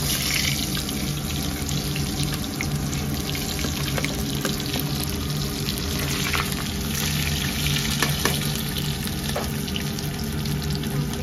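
Steady, close sizzling and crackling of potatoes frying in hot oil with cumin, a constant dense hiss with small pops, no voices.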